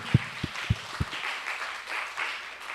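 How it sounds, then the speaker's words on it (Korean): Applause from a congregation at a Friday church prayer meeting, a few strong thumping claps followed by a softer, diffuse patter of clapping across the room. "박수 올립시다."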